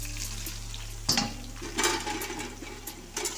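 Soybean chunks tumble into leftover hot oil in a kadai, with a sudden hiss at the drop and a second burst of sizzling that keeps crackling softly up close over a low background hum.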